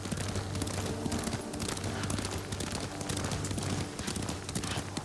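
Horse hooves clip-clopping at a steady riding gait in Ghost of Tsushima, a continuous rhythmic patter close by over an ambient game soundscape, with no talking.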